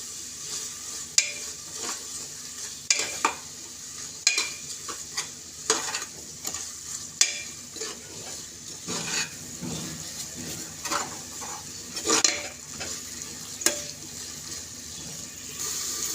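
Tomatoes with rock salt sautéing in a pan, a steady background sizzle broken by repeated scraping and clacking strokes of a stirring spoon, close and fairly loud, with no talking.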